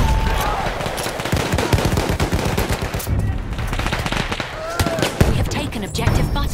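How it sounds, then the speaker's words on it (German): Rapid machine gun fire from a World War I trench warfare battle in Battlefield 1, loud dense bursts and explosive cracks running continuously with shouted voices and battlefield noise mixed in. "Maschinengewehr gesichtet!"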